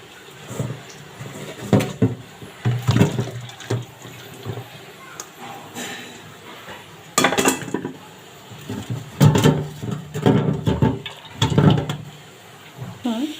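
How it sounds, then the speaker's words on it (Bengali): Boiled yardlong beans are drained through a strainer, with bursts of pouring, splashing water and metal clatter coming in uneven waves, some loud, against a quiet kitchen background. "আর আমি বটবটির এই ফাঁকে ছেঁকে নিই।"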